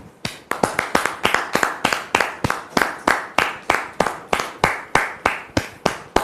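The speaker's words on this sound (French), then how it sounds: "Merci donc de recevoir Dame Martine sous vos applaudissements, s'il vous plaît." A studio audience on a television talk show applauds, heard as a single steady series of sharp, evenly spaced claps close by, with no talking.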